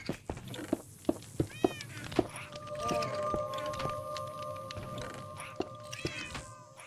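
A pet cat meows several times, with soft sounds and a string of sharp clicks or taps in between. The meows are close and moderately loud over quiet background noise, and no one speaks.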